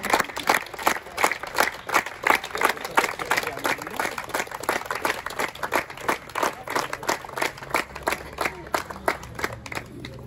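A crowd at a foundation day function claps in fast, strong rhythmic bursts that run without a break, bright and close, with faint voices underneath.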